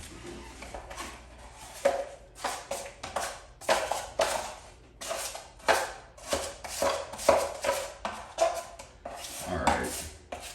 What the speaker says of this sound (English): Let me stir this pan of mud real quick.